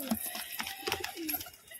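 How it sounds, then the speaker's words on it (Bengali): Flying (bazi) pigeons in a loft give a few soft, short coos, faint and scattered over quiet background noise. "যা পায়রা দেখছেন এখানে সব বাজির পায়রা"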